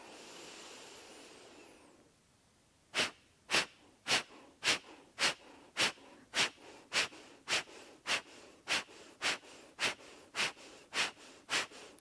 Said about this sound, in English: we're just exhaling through the nose and the in-breath happens automatically. It's an incredibly invigorating, energizing breath